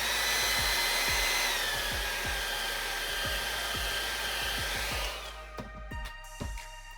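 A hair dryer blowing steadily and loudly to dry paint on a model of aged wood, shutting off near the end, leaving a few light knocks and clicks.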